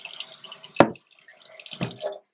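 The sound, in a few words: water being poured to fill a rice cooker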